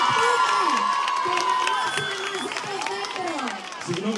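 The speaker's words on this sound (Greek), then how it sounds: "Πάμε ένα δυνατό χειροκρότημα," At an outdoor Christmas tree lighting concert in Alexandroupoli, a crowd cheers, whoops and claps while children shout, with voices rising and falling throughout at close, lively volume.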